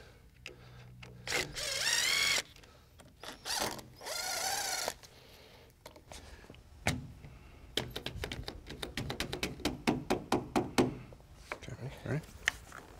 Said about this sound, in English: At this point, you need to remove the screws